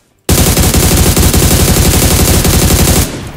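Sustained automatic gunfire from PUBG Lite, a rapid, loud, unbroken burst of shots lasting about three seconds before cutting off, with no talk over it.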